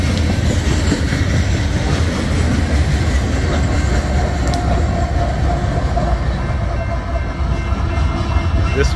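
An eastbound loaded coal train rolls past on the Kansas sub at Minikin Road, Kansas, with a 2x1 lashup and a C44 ACM pushing at the rear. A steady, loud, close rumble with wheel clatter runs the whole time.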